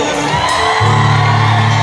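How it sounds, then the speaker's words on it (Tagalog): A congregation at a worship gathering lets out a loud, sustained shout and cheer together, a short burst of many voices that swells and holds. "Malakas na sigaw!"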